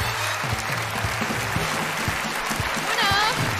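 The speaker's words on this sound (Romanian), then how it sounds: "Să-i primim cu aplauze pe Alexandru și Liana Avădanei!" An audience at the iUmor 2021 comedy show applauds to welcome performers to the stage; steady clapping fills the room while a voice speaks over it.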